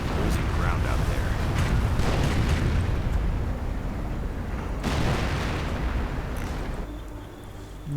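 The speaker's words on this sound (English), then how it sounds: "Area's getting pretty saturated with rockets though from both sides." Rocket explosions from German Nebelwerfer launchers and Allied forces in a World War II strategy game, a dense continuous barrage of booms and rumbling blasts that stays loud throughout before easing near the end, with a voice speaking over it.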